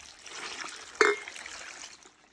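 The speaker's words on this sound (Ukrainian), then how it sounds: "Сюди ми додаємо 2 літра води." Water poured from a container onto four kilograms of cubed pumpkin in a pot, a short splashing gush with a sharp onset, then a faint trickling settle, quiet and close.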